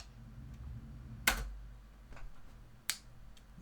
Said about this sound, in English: do a slate clap at the end of your take, a tail slate